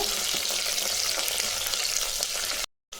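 Fresh green curry leaves sauté in oil over a low flame, giving a steady, close, even sizzle for most of the stretch before it cuts abruptly to silence near the end.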